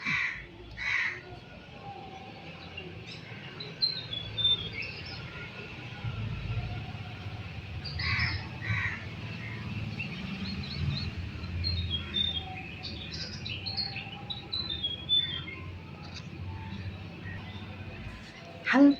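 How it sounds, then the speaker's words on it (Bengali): Crows cawing and small birds chirping in short, scattered bursts at a distance, faint and intermittent under a person talking quietly nearby. "হালকা পাখির কেচের কেচের আওয়াজ বেশ ভালো লাগে, হালকা পাখির কেচের কেচের আওয়াজগুলো।"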